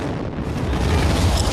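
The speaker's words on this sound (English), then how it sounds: "Two explosions near the finish line just a short while ago" A loud, booming rumble of an explosion, broad and roaring with a heavy low end, sustained over a brief moment without any voices.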